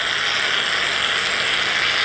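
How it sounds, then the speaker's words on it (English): Shaving foam sprayed from an aerosol can into a glass, a continuous hissing spray held steadily and close for about two seconds, with no talking. "Inside the glass, we're gonna spray our shaving foam."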